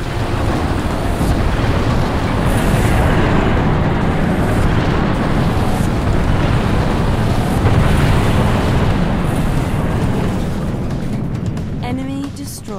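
An orbital strike from the Spirit of Fire in Halo Wars lands with a loud, sustained explosive rumble and roar that fades near the end, giving way to brief higher tones.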